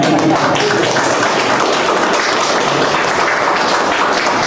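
A room full of people keeps up loud, sustained clapping at a health talk on autoimmune illness, the dense applause filling the stretch evenly without any voices on top.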